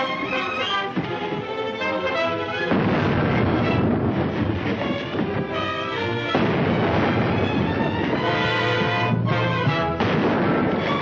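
Cannon broadside from a ship in a 1936 war drama, a dense continuous roar of heavy gunfire and rumbling with sustained loud bursts throughout, no talk.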